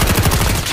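Rapid, loud gunfire bursts fill the moment in a Call of Duty Mobile match, close and dense.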